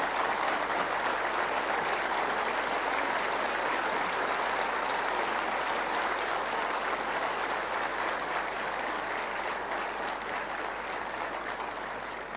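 Sustained applause from a large audience at a speech event, dense and steady clapping that fills the whole stretch at an even loudness, with no voices over it.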